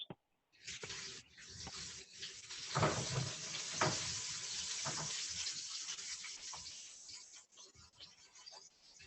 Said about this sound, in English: It's just a slow sear on these shrimp prawns